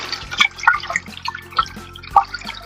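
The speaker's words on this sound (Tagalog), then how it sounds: "atay ay hugasan lang po." Water drips and splashes in irregular, close, light drops while raw liver is rinsed for kilawing labanos, with small trickling bursts between the drips.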